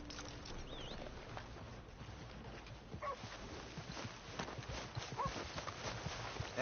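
Horse hooves clip-clop steadily in a PS4 Grand Theft game, a soft rhythmic patter mixed with ambient game sounds and occasional bird-like chirps, moderately close.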